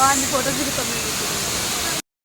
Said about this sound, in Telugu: చూడండి వాటర్ ఫాల్స్ ఎంత పెద్దగా ఉన్నాయో